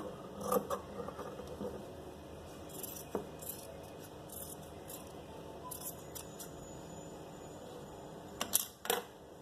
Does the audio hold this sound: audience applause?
no